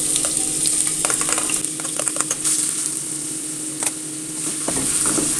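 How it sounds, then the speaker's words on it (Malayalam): A large finely chopped onion frying in a few spoons of hot oil, a close crackling sizzle with scattered spatula clicks and stirring scrapes, continuous and fairly loud without speech. "ഇനി അതിലേക്ക് നമ്മൾ പൊടി പൊടിയായി അരിഞ്ഞ ഒരു വലിയ സവാളയാണ് അതിട്ട് കൊടുക്കാം"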